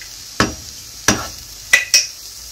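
A spoon scrapes through egg puff masala spiced with chilli powder, pepper and garam masala in a pan, four distinct close strokes with short pauses between them, no talking.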